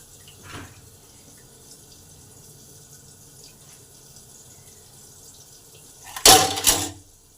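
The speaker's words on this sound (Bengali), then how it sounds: "সেই বাটা মশলাটা ছেঁকে এতে দিয়ে দিলাম" Strained mustard spice paste is poured into a hilsa fish curry with eggplant, a faint wet trickle at first, then a short, louder splashing pour near the end, with no talking.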